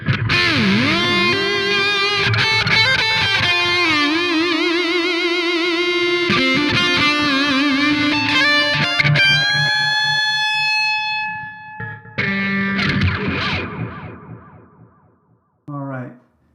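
An electric guitar solo with distortion and delay, sustained bending lead notes ringing over a backing mix, fading into choppier phrases near the end.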